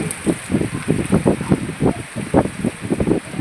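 Gusty wind buffets the microphone in heavy Palakkad rain, producing loud irregular rumbling bursts over a steady hiss of falling rain.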